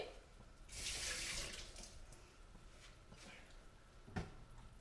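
Water is poured into a dish while preparing tilgul ladoo syrup in a home kitchen, a short soft splashing stream heard up close at moderate loudness, followed by quiet handling and a brief clink.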